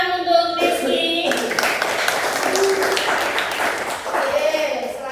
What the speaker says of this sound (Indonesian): Kita berikan tepuk tangan untuk Rizky.